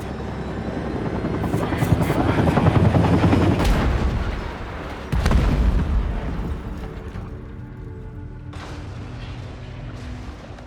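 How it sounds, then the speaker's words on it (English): A helicopter crashes in the horror game Still Wakes the Deep, set on an offshore oil rig: a loud, dense roar of rotor and engine noise with sharp impacts and crashing bursts that swells, breaks off abruptly, then fades into a lower rumble. "Something happened on that helicopter, causing it to crash, killing them."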